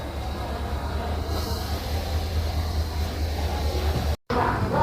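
Taj Express passenger train pulling out of a station, a steady heavy low rumble of rolling carriages with a brief dropout near the end, no talk.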